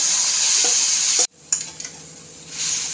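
Cooked buffalo tongue for a pepper roast goes into a loudly sizzling masala. The hiss cuts off abruptly, then returns softer with spoon clatter and stirring before building again.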